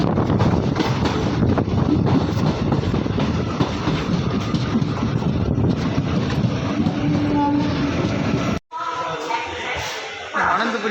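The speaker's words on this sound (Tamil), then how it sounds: "அனந்தபுரி சூப்பர் ஃபாஸ்ட் எக்ஸ்பிரஸ் விழுப்புரத்துக்கு ஒரு 8 minutes பிஃபோராக வந்திருக்கு" Ananthapuri Superfast Express pulling into Villupuram station, a loud steady roar of rolling wheels with clickety-clack and wind buffeting the microphone, then a sudden drop to quieter platform ambience.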